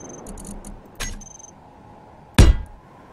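Placing blocks in the Space Engineers game produces sharp metallic clangs: a lighter hit first, then a heavier, louder clang about a second and a half later, each ringing briefly over a quiet background hum.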